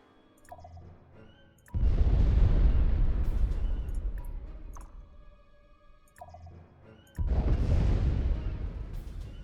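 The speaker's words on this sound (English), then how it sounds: "I guess we'll go ahead and start dropping bombs." Bombs drop on a planet in Master of Orion: Revenge of Antares, two heavy booming blasts with long rumbling decay, separated by quieter game tones and electronic blips.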